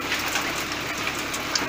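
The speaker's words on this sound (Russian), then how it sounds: "Глянь, какой град." Large hailstones pelting down in Oryol Oblast, Russia, some rolling under a car; a dense, steady rattling patter with sharp bright impacts, continuous throughout and no talking.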